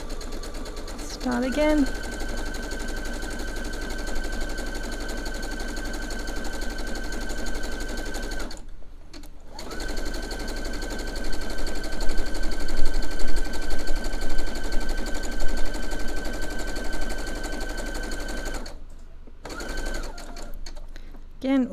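A domestic sewing machine runs a steady zigzag stitch close to the edge of a fabric piece. The stitching is continuous and near, stops briefly twice, and a voice talks over it at times.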